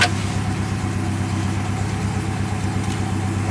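Porsche 928 engine idling after a gentle start, a steady low rumble holding even and close with no talk over it.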